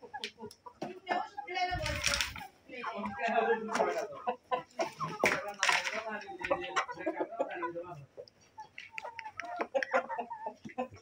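Tiger breed chickens clucking at a small Bengali farm, busy bird calls mixed with frequent speech throughout.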